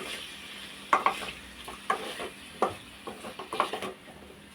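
Mango pieces, ripe and semi-ripe, being stirred in hot oil for a sweet mango pachadi, with a soft steady sizzle broken by a string of sharp spoon scrapes and clinks against the pan.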